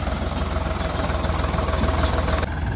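A tractor engine idles steadily with a low, continuous rumble and faint knocking pulses, running alone without pause before a slight shift near the end.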